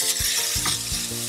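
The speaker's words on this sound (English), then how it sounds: "Saute for 2 minutes." Green chili and the white parts of green onion sauté in a pan with a steady, close sizzle, broken by a few soft stirring knocks.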